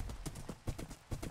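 Rapid, even clip-clop of skeleton horse hooves trotting on a hard surface in a Minecraft-style video game, close and steady, with a rhythmic galloping beat throughout.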